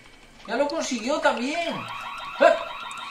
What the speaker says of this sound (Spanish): ¡Alarma, alarma!